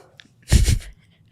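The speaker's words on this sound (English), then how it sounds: "And I have to sneeze." A single short, close sneeze from a woman, a sharp breathy burst lasting under half a second in an otherwise quiet room.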